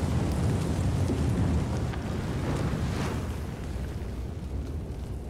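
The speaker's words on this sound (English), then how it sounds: "Molotov! Wait for the fire to clear." A Molotov cocktail fire roars in Call of Duty: Modern Warfare (2019) as a loud, steady, broadband whoosh and crackle, close and continuous for about five seconds, fading slightly toward the end with no talking.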